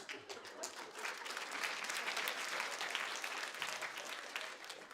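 A steady round of audience applause at a Ukrainian stand-up comedy show, many hands clapping at once in a dense, even wash that holds for several seconds at moderate volume.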